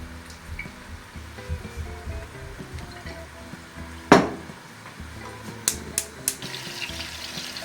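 Meatballs with vegetables frying in a little oil in a pan, a soft continuous sizzle with a sharp clatter of utensil against the pan and several light knocks of stirring.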